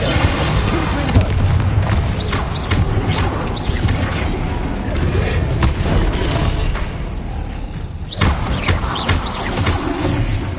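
The Bombarda blasting spell from Hogwarts Legacy erupts in a series of loud, dense booms amid continuous combat din, close and heavy, with a louder burst near the end.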